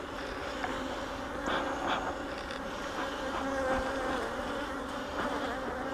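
Honey bees buzz close around a beekeeper at an open hive, a steady, dense droning hum with individual bees swelling louder as they pass near, with no talking.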